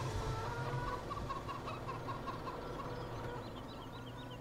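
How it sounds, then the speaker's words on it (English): Chicken and rooster sounds in Farming Simulator 17 on a summer farm: a run of repeated clucks and short calls over a dense, steady background of farmyard ambience, loud and continuous with no talking. "I got the busiest rooster in the universe"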